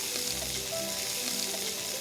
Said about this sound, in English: cook 2 large chopped onions in olive oil along with some garlic.